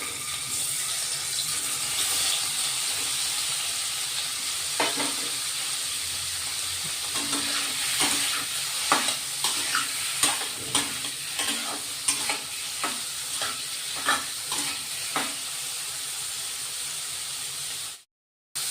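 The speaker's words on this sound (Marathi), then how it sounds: "तेलात थोडं पनीर परतून घेतोय आपण आता." Paneer pieces frying in oil in a kadai for shahi paneer, a continuous close sizzle with a series of light scraping and stirring clicks in the middle, cutting off abruptly at the end.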